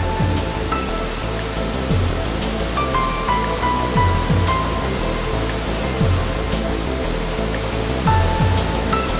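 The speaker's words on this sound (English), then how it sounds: "whose water thunders down across the cliffs of the ancient shoreline with awesome power." Skogafoss waterfall in Iceland, a 60-metre cascade, roars as a steady, loud, broadband rush of falling water that continues unbroken for the whole stretch.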